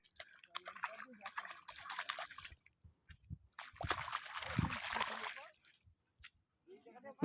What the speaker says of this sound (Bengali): একটু পাটা ধুয়ে নিচ্ছি